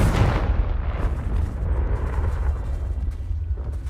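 A Confringo blasting spell explodes in the Hogwarts Legacy video game, a loud, dense boom whose broad rumble opens sharply and then rolls on steadily for several seconds.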